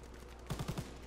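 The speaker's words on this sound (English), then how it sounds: "You're on the ground using a freaking grease gun." Grease gun firing in a first-person shooter match: a short burst of four quick, evenly spaced shots, fairly loud against a steady low background hum.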